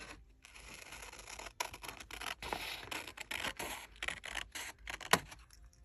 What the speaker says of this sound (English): Let's go ahead and cut this in just a